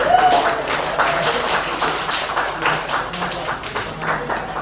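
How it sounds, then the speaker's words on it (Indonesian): A classroom of students applauds during a microteaching lesson, with steady, dense clapping that stays loud and even for the whole stretch. "beri tepuk tangan dulu untuk yang maju"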